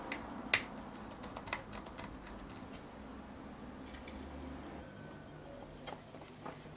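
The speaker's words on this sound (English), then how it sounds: "Unscrew two screws holding the main board." Small screwdriver work on a Toshiba TDP-S8 projector main board during a teardown: light, close clicks and ticks of screws being turned out, scattered and faint over a quiet background.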